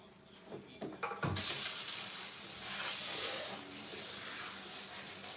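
Tap water runs steadily from a faucet while dye is rinsed out of a wig, a broad hissing splash that begins abruptly after a few brief knocks and continues loud and close to the end.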